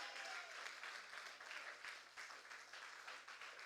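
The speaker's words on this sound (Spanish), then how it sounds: "aplauda al Señor" A church congregation clapping during a sermon, steady continuous applause with a soft rhythmic pulse, fairly faint and distant throughout.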